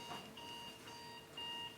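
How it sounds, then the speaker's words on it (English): An alarm goes off during a keynote talk, giving faint, thin electronic beeps in repeated bursts that sound distant and quiet in the room, with no speech over them. "someone's got an alarm going off"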